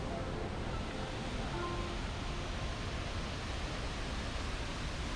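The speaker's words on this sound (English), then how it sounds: "Amazing waterfalls with several thousand pounds of water falling every minute." Waterfall in Costa Rica, heavy water pouring down, heard as a steady, dense broadband roar that holds constant throughout, with no voices.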